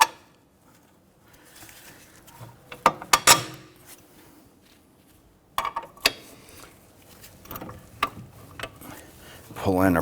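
Bolts are threaded into a steering knuckle on a 2006-2014 Honda Ridgeline, giving sparse metallic clicks and short ratcheting bursts over quiet workshop background.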